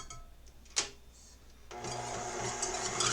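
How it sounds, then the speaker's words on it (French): An electric mixer starts up and whirs steadily, whipping egg whites toward soft peaks in a bowl, after a few brief clicks and knocks; the motor hum is close and continuous. "So I want to whip this until it gets to soft peaks"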